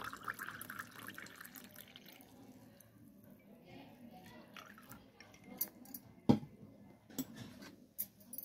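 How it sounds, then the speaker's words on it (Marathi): Water is poured into a glass holding ice and orange premix powder for a cold drink, a faint soft trickle with a few sharp clinks near the end. "आणि पाणी घालून घ्यायचं आपल्याला याच्यामध्ये।"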